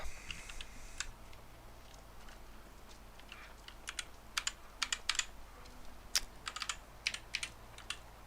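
Keys clatter on a computer keyboard in irregular bursts of quick clicks, close and fairly quiet over a low steady hum, with pauses between flurries.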